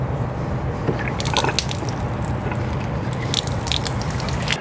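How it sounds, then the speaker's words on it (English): Water draining from an RV fresh tank and hot and cold line valves, a steady splashing trickle with scattered drips over a constant hiss, close by and alone. "I'm going to open all these valves up and let the fresh tank drain along with any water that is in the hot and cold lines"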